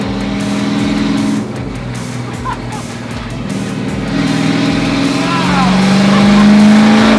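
A Chevy Camaro Z28 1LE race car on new Toyota tires drives hard, its engine droning loud and steady with a rising tone near the end, while a voice talks over it.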